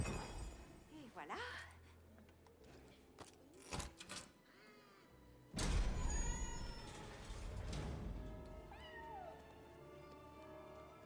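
Magical stray cats in a video game meow several times amid game sound effects, music and crashing noises, with players talking over them.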